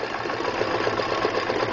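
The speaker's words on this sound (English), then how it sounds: "I don't know if you can hear me over the sewing machine" A sewing machine stitching a basic straight stitch runs steadily and fairly loud throughout, a continuous whirring motor hum with a rapid, even needle rhythm and no talking over it.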